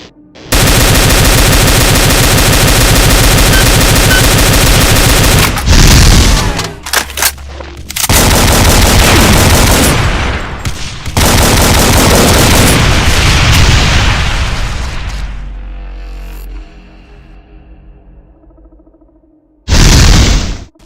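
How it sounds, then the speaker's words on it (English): An explosive minigun and explosive shotgun in a Doom mod fire relentlessly, with a dense, roaring stream of rapid shots broken by short pauses, booming blasts and a final loud burst. "You can, however, use the explosive minigun or the explosive shotgun to take both the spikes and the corrupt Annihilator down"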